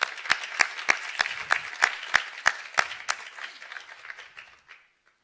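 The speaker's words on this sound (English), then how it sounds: "Give them a big applause, please." Applause at a bachelor's graduation ceremony: a small audience claps in a clear, regular rhythm of crisp individual claps, close and steady at first, then thinning and fading into silence.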